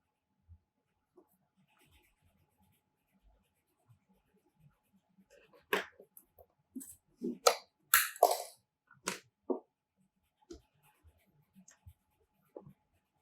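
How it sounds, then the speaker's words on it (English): A pencil draws a line on paper along a 30-degree set square, a few faint taps followed by a cluster of short scratchy strokes in the middle, then quiet, close up and without talk. "I draw a line."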